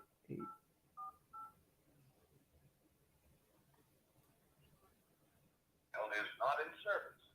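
A telephone number is dialed as a few short tones spaced about half a second apart, close and fairly quiet, followed after a pause by a burst of speech.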